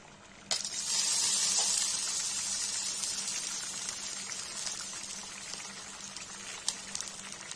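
Milk and cream added to fried onions in a pan start at once into a loud, steady bubbling hiss that slowly settles, heard close with no voices.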